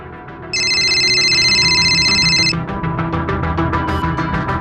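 A telephone rings with a bright electronic trill lasting about two seconds, loud and close, over a ticking, rhythmic background score that continues after the ring stops.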